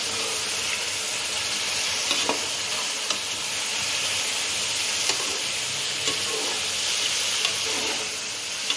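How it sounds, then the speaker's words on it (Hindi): Eggplant pieces fry in a pan with a loud, dense, continuous sizzle and hiss, dotted with a few faint ticks of a utensil. "बैंगनों को हम फ्राई कर लेंगे"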